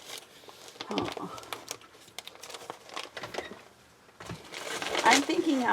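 Crisp crinkling and rustling of gold tissue paper in short bursts, with a voice speaking briefly between the rustles.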